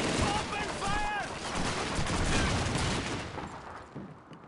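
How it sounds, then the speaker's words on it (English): Heavy gunfire in a Call of Duty World War II battle, continuous rapid machine-gun and rifle shots, loud and close throughout, with shouted voices under the shooting. "Open fire!"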